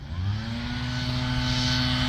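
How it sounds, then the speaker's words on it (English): A blower runs in a peanut field, a loud, steady mechanical roar with a droning engine hum that holds even and close for the whole stretch, with no voices over it. "they're using a blower at the moment"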